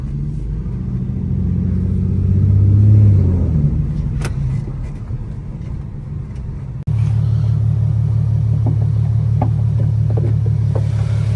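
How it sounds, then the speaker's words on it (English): An Infiniti G37 on a test drive after a steering fix, its engine droning steadily and swelling briefly as it accelerates, then settling into a constant low road rumble inside the cabin. "I'm taking the car for a little drive just to make sure."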